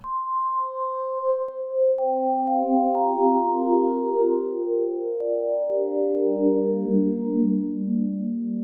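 A Phase Plant synth plays a vocal-derived wavetable with all its frames set, giving a sequence of overlapping sustained notes that settle lower and build into a full, warm chord over about eight seconds, alone with no talking.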